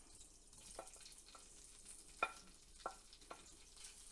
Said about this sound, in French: Maintenant, on va faire revenir ça à la poêle.